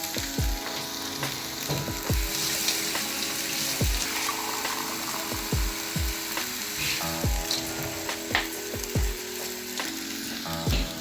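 Water poured into frying masala for potato sabzi sizzles loudly and steadily in the pan, with repeated knocks of a spoon stirring against the vessel throughout.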